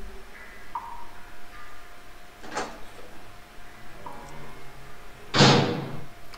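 Doors in the Resident Evil Director's Cut video game open and close, with a creaking swing followed by a loud slam, then a second sharper thud, over quiet ambient game music.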